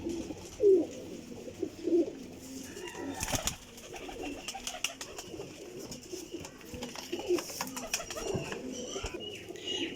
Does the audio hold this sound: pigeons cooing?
yes